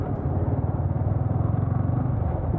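A motorcycle labours up a muddy mountain road toward Barpak, its engine a steady close rumble with rhythmic pulsing throughout and no voices.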